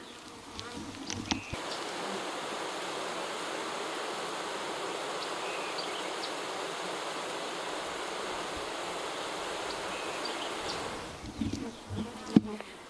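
A dense, continuous buzz of many honeybees fanning at a hive entrance close by, a steady droning hum that holds for several seconds, with brief handling knocks at start and end.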